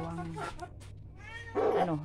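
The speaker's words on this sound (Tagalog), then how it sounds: "Ito yung pusa ko" A cat meows a few times, drawn-out and whiny, with a louder yowl near the end; close by, with faint background noise.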